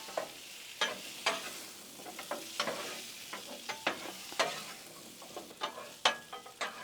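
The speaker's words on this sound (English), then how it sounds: "And just dump them on the griddle. Let's get them all mixed up in this butter." Potatoes tossed in butter on a Blackstone griddle, scraped and stirred with sharp metallic clicks and taps of a spatula over a steady close sizzle, no voices.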